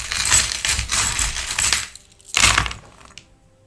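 Divination charms cast and jangling together, a dense metallic rattle for almost two seconds, then a second shorter clatter after a pause, close and fairly loud.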